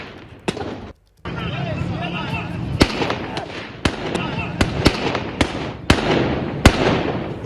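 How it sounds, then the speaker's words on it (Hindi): Continuous gunfire in Peshawar: a rapid, irregular series of sharp, loud shots over a constant rumbling background, some closer and punchier, with a brief dropout near the start. "तो गोली चलने की आवाज साफ तौर पर आप सुन पा रहे होंगे,"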